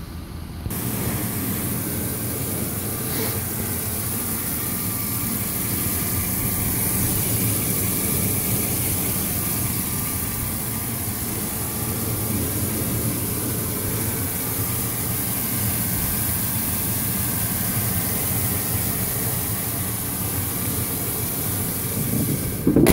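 The engine of a 1999 GMC Sierra Z71 pickup runs at a steady idle, a continuous loud broadband hum and whir that holds unchanged throughout, with no voices.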